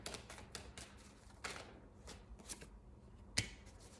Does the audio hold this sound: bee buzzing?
no